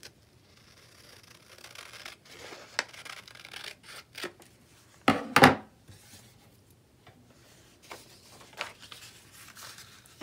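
Scissors cutting through a paper napkin give a few quiet, scattered snips and rustles, with one sharper cut a little past the middle, in an otherwise hushed room.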